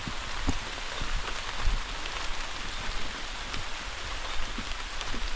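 Steady rain patters on a surface, with scattered louder drops hitting nearby over a continuous hiss; no voices.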